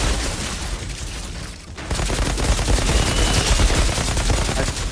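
Dense, continuous gunfire in the shooter game Outriders, rapid overlapping shots and booms after a brief dip, loud and sustained with no talking.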